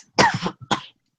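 A person coughs twice, close and loud: a longer rough hacking burst followed by a short second cough, then silence.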